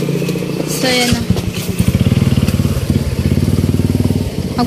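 A motorcycle turns close by on a street, its engine giving a loud, rapid, pulsing putter that holds steady throughout, while people talk in the background.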